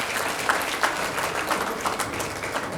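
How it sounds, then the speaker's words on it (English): An audience at the launch of a Hanuman Chalisa healing-card foundation gives a steady round of applause, dense continuous clapping from many hands with no talk over it. "So let's give her a round of applause as well."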